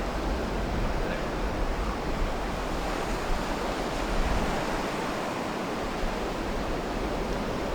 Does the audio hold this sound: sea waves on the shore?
yes